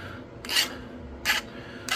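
Flintknapping tool being sharpened with rough rasping strokes, three short, close, scraping bursts at a steady, unhurried pace with quiet pauses between them.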